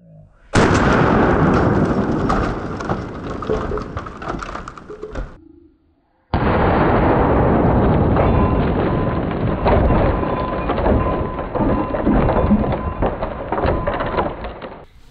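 An AK-74 rifle firing 5.45 rounds into thick concrete outdoors, heard as loud sustained bursts of gunfire that break off into a brief silence and then resume.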